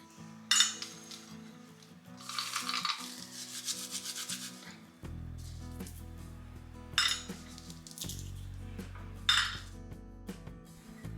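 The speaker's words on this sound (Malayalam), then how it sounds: "നമുക്കിനി ഇതിൻ്റെ തോലൊക്കെ ഒന്ന് മാറ്റി കൊടുക്കാം." Roasted peanuts rubbed by hand to loosen their skins, giving dry scraping rustles in bursts with faint clinks from a dish, close and quiet.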